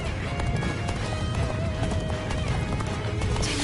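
In the Dynasty Warriors Origins demo, a horse gallops with rapid, continuous hoofbeats over a busy battle din, close and steady, with occasional whinnies mixed in.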